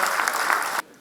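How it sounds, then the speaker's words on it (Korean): Applause from delegates at a Democratic Party central committee meeting, a dense burst of clapping that carries on steadily, then cuts off sharply near the end, leaving near silence. "박수로 한번 맞아주시기 바랍니다."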